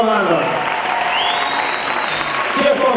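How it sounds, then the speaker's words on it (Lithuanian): Warm audience applause at a conference in Kaunas thanking the project teams, a steady wash of many hands clapping with a faint tone and some voices mixed in. "dar kartelį sodingiais plojimais padėkokime visoms projektų komandoms"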